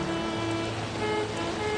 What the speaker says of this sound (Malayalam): റോട്ടിലൊക്കെ നല്ല വെള്ളമായി, നല്ല ഹെവി മഴയായി.